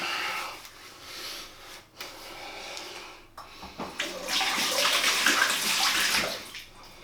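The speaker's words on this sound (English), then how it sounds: "Bit of water to get the excess off the hands." Water runs and splashes steadily from a tap, swelling louder midway as shaving soap is rinsed off hands beneath it.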